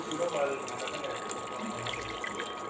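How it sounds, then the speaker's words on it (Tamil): Water poured into a cooking pot for sweet corn soup with carrot and beans, a steady continuous splashing fill running throughout at moderate level with a faint hum behind it. "தண்ணி சேர்ப்போம், அது இப்போவே சேர்த்துக்கலாங்க"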